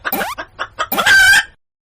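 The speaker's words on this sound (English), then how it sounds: "Hen." A hen clucks close by: a few short, quick clucks, then a louder drawn-out squawking call near the end, with no talking.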